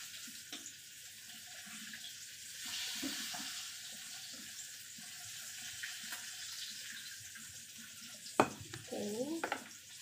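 Chicken feet fry in a pan with a soft, continuous sizzle and hiss, punctuated by a few scrapes and clatters of stirring near the end.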